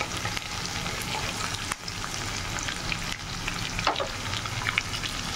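Onions frying gently in a pan for a dried fish curry, giving a continuous bright sizzle with crackles and occasional stirring scrapes, close by and without speech.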